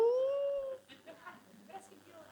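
A person imitates a cat's meow with a drawn-out, rising then falling vocal cry, loud at first, followed by quieter scattered talk.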